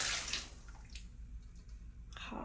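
Hot water drains down a clogged bathtub treated with apple cider vinegar, giving faint splashing and trickling with brief bursts at the start and end and a low steady rumble between.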